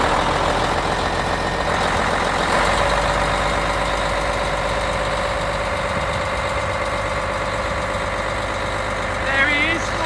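A Challenger tractor engine runs steadily at a low, loud idle as it is driven into a shed, a constant rumble that stays level throughout.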